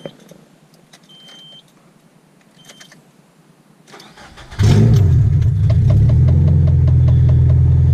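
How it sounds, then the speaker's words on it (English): A Nissan SR20VE engine with a tri-Y open header, fitted to a B14, is cranked with a short starter whir after a few faint beeps and some quiet fumbling. It catches and settles into a loud, raspy idle up close. "Yeah, it's pretty loud. SR20VE tri-Y open header."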